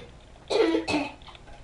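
A person gives two harsh, loud coughs close by, one right after the other, with no talking around them.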